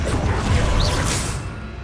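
Arresto Momentum spell cast in the Hogwarts Legacy video game, a loud crashing impact with a swooshing magical sweep and a rising shimmer, dense rumble beneath, fading toward the end.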